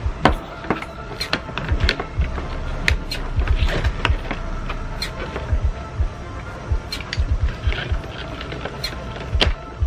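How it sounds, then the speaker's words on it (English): A 7mm socket backing screws out of an interior door panel on a 2007-2013 GMC Yukon Denali, giving irregular close clicks and ratcheting creaks with soft handling noise between them. "Now we need to take 7mm socket and move the screws."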